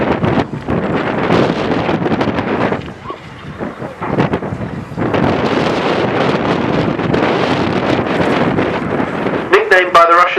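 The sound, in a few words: Polikarpov Po-2 'Kukuruznik' biplane engine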